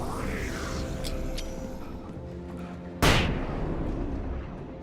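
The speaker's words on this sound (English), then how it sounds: "I just flashbanged myself." A flashbang grenade goes off in the game Alan Wake, a single sharp, loud bang that cuts through the murky in-game ambience and then fades into a ringing hiss.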